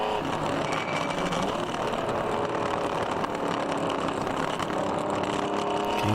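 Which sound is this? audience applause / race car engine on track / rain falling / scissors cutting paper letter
race car engine on track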